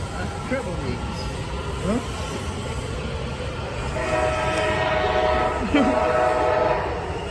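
An Amtrak train horn sounds in steady sustained tones over the rumble and rattle of a moving train, heard from fairly close with background noise throughout.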